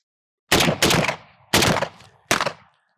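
Three sharp rifle shots fired one at a time in semi-automatic mode, loud and close, each crack followed by a short echoing tail, with pauses between rounds and a small extra thump after the first.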